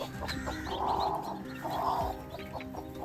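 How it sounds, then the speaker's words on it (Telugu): A hen clucks close by beside her newly hatched chicks, still sitting on two unhatched eggs in a village farm setting. Short, repeated throaty calls rise and fall across a few seconds with no talking. "ఇదిగో పొదగేసిన కోడి చేసినటువంటి దాన్ని పిల్లల్ని మీకు చూపిస్తాను మిత్రమా"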